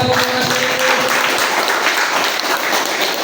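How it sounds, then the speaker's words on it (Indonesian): Dense, steady applause from an audience at a table tennis team league event in a hall, continuous clapping throughout, loud and close, with faint voices underneath. "Oke, tepuk tangan untuk kita semua."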